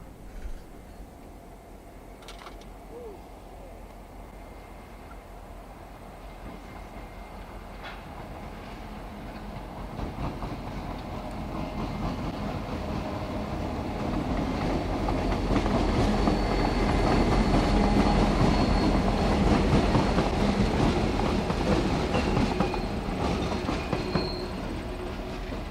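Reading and Northern locomotives 5018 and 5019 roll past with steady rail clatter and a faint squeal, growing louder as they draw near and staying loud through the end.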